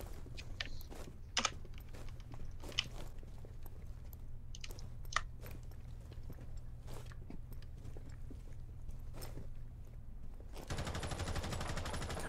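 Rainbow Six Siege gunfire comes as a scattering of faint, sharp shots over a low steady hum, sparse and distant, with a louder burst of noise at the very end.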